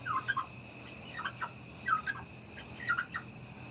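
Several short gobbling bursts from a turkey, fairly faint, spaced across a few seconds over a low background hum.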